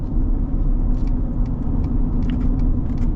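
Ford truck with an EcoBoost engine accelerating from inside the cab, a steady loud low rumble of engine and road noise holding for a few seconds.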